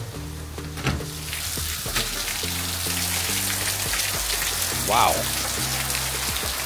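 A torrential downpour pounds the ground in a dense, steady roar of rain that lasts throughout, with a few brief voices speaking over it.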